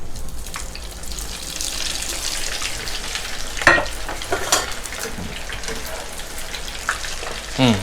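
French fries drop into hot palm oil and fry with a steady, dense sizzle and crackle, close and loud, stirred now and then with a few clinks and bubbling surges.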